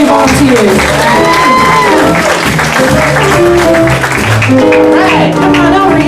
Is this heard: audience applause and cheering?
yes